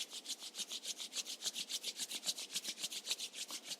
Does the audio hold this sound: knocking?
no